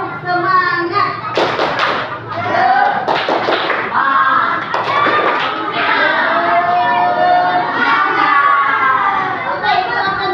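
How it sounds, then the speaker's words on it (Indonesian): A sixth-grade primary school class in Indonesia claps out a rhythmic spirit clap together, with loud, bunched bursts of hand claps in quick patterns and children's voices chanting over them throughout. "Siap, tepuk semangat."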